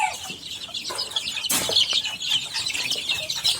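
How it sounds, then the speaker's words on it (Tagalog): Young chicks at a Filipino seller's coop chirp and peep in dense, high overlapping calls, with a brief louder flutter or scuffle midway and steady background cheeping throughout. "Mga sisiw pa yan."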